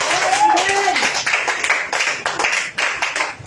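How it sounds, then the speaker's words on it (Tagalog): Congregation at a church healing service clapping, a loud, steady run of hand claps close by, with a brief voice at the start. "Yung palakpak ninyo kay Wednesday"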